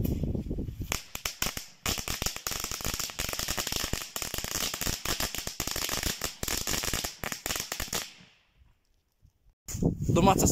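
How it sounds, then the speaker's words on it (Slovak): A 200-gram firecracker carpet sets off a long, dense chain of rapid crackling bangs, loud and continuous for about eight seconds before a brief silence, then another burst begins. "Dvestoranový búchovci koberec."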